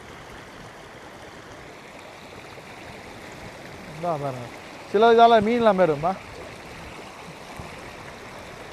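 Floodwater rushes past in a steady, broad hiss, with someone speaking briefly over the flow partway through.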